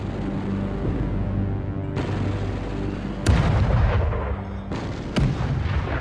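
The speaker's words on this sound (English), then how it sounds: "the Canadian attack by 4 divisions began, supported by a well-devised creeping barrage." Continuous thunderous rumble of a World War I artillery creeping barrage, with two heavier booms punching through the dense, roaring bombardment.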